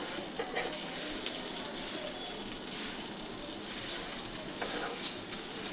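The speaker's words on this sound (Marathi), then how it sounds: "चांगले चुरचुरीत भाजा." Food frying until crisp in hot oil gives a steady, dense crackling sizzle at moderate volume, with a few faint scraping stirs and no voices.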